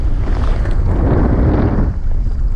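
Gusty wind buffets a boat on the Ebro river, a loud, broad roar and rumble of wind that swells and fades in gusts throughout, with no talking.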